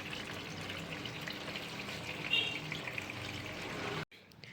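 A washing machine with detergent added starts taking in water, giving a soft, steady hiss and trickle at low volume before it cuts off abruptly near the end.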